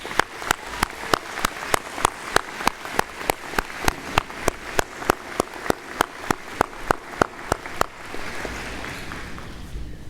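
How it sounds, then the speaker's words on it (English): A university convocation audience in Winnipeg applauds: close, steady and evenly spaced claps from one nearby clapper stand out over softer crowd clapping, which continues briefly alone at the end. "I'd like to ask all graduates to join me in a round of applause to show appreciation for the support you've received."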